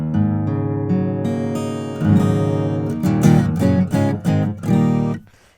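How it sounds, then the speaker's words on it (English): An electric guitar tuned down a half step plays a part from a song, ringing chords and picked notes in a rhythmic pattern, close and clear, ending in a quick fade with no talk. "we want our guitar tuned down a half step"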